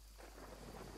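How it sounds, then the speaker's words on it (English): Steady broadband rain hiss from a video game, a continuous wash of falling rain with no talk over it. "Rain."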